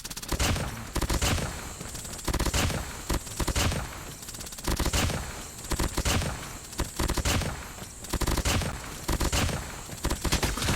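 Rapid automatic gunfire from the mobile shooter COD Mobile, loud sustained bursts of fire with short gaps between volleys, no voices over it.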